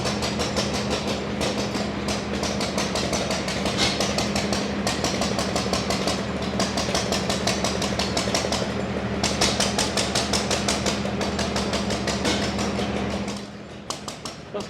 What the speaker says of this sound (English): this small engine here